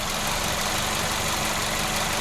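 Peugeot 508 car engine idling with a shake, likely from incorrect timing, heard as a steady, continuous mid-to-low rumble close by, running alone without voices.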